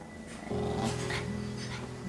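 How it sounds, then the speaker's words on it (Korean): A Maltese dog growls low and steadily at close range while a hand reaches toward its owner's body, with no talking. "승영 씨의 몸에 손을 내려 하자 으르렁거립니다."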